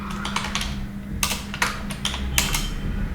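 Keys clatter on a computer keyboard in short bursts and quick runs of taps, close and fairly clear, with pauses between runs while a web browser extension is being built.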